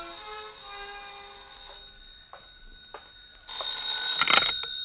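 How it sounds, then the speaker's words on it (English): A telephone rings in an old-time radio mystery drama, a bright electric bell trilling in bursts with brief pauses, moderately close over a fading music cue. "was about to head for New York when the phone rang."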